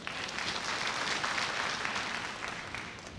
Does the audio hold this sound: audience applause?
yes